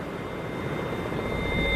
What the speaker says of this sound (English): Look, there goes the helicopter.